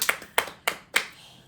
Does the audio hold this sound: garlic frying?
no